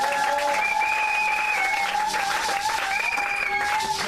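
A church congregation at a wedding blessing breaks into sustained, loud applause that fills the room steadily, with a few voices and whistles mixed into the clapping.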